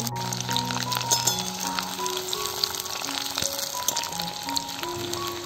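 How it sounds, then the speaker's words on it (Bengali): Three medium potatoes cut into long slices frying lightly in oil for a silver cup fish curry, a steady close sizzle with faint crackles and a soft background tone, no speech. "আলুগুলোকে এখন একটু হালকা করে ভেজে নেব।"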